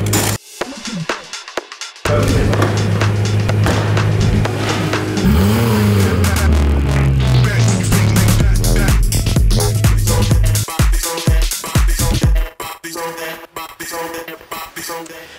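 A tuned BMW M3 E92 with its V8 engine and Akrapovic exhaust revs hard up close, the loud engine note climbing and falling in long sweeps, then breaking into sharper crackling blips, with a voice talking at times.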